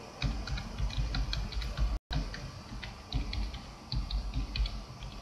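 Rapid, uneven keystrokes on a computer keyboard as an email address is entered, close and fairly loud, with a brief dropout near the two-second mark; no one speaks.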